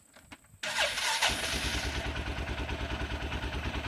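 A car engine, freshly oil-changed, cranks briefly and catches, then settles into a steady, close idle with a rhythmic low rumble.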